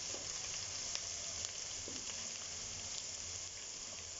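Green chillies fry in oil with a faint, even sizzling hiss and a few light pops and crackles, close and steady, no talk.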